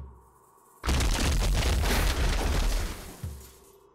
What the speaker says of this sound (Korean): 하늘에서 벼락이 떨어지는 것 같이 펑펑 불상 터지는 소리가 났다.